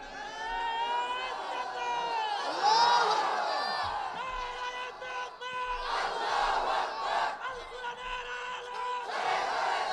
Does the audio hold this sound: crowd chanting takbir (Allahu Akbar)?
yes